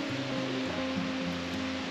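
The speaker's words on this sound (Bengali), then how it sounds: "এখানে পাখির আর ঝর্ণার আওয়াজ পাওয়া যাচ্ছে" A waterfall rushes steadily along a mountain trail on the Rudranath trek in Uttarakhand, giving an even, continuous wash of water noise close by.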